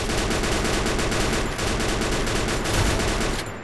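Dense, sustained automatic gunfire from the video game Free Fire, loud and continuous with rapid overlapping shots and no pauses, ending with a brief drop near the close.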